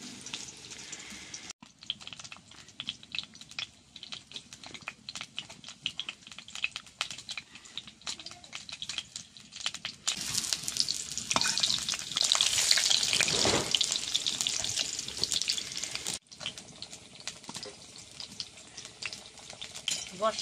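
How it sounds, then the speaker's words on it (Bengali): Cut teasel gourd (kakrol) dropped into hot mustard oil in a wok, a loud hissing sizzle swelling midway with stirring and clatter, quieter frying and scraping before and after. "কড়ার তেল গরম হয়ে গেছে, কাঁকরোল কেটে রাখা কাঁকরোলটা দিয়ে দিচ্ছি ভেজে নেব।"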